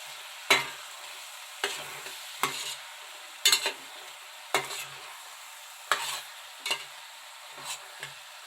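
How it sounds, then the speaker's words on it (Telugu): Spoon stirring bottle gourd curry with turmeric in a pan, giving about ten separate scraping strokes at a steady rhythm over a faint low sizzle. "వేసుకున్నాక మళ్ళీ ఇలా కలుపుకోవాలండి"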